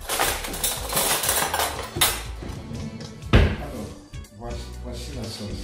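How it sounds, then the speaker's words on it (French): A metal spoon clinks and scrapes against a cooking pot while mbika sauce simmers on lowered heat. The bright clatters come irregularly, close to the listener, with one sharper knock partway through. "Prendre la cuillère."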